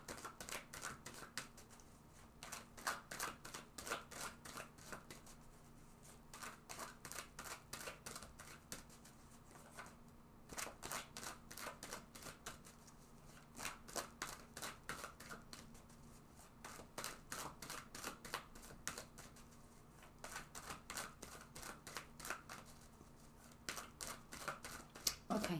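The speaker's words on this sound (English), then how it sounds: "let's go ahead and shuffle this deck several times" Tarot card deck shuffled repeatedly by hand, a steady run of crisp riffling clicks and soft slaps that comes in bursts with brief pauses, close and fairly quiet throughout.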